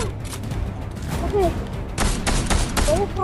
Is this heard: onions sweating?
no